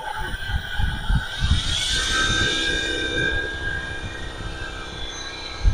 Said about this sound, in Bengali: ডাটাই মোটর আমি চালু করতেছি, অলরেডি আমি চালু করলাম মোটরটা।